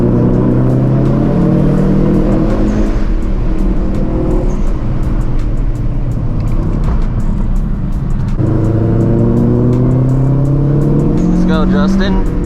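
Ford Focus RS engine accelerating hard through gears from inside the car, a loud continuous rising drone with a shift break, tire and road noise beneath, while a person talks over it.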